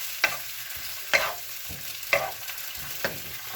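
Shrimp stir-fried with asparagus for fried rice in a pan: four sharp scraping strokes of a spatula about a second apart over a quiet, steady sizzle, close up with no voices.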